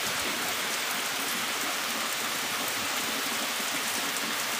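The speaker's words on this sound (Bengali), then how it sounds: "এত বৃষ্টি পড়ছে" Heavy rain pours down steadily in the evening, a dense, continuous hiss with no pauses and no voices.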